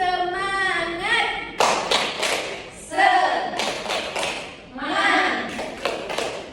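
A school class performs a rhythmic spirit-clapping routine, sharp grouped claps in bursts alternating with children chanting and a teacher's voice.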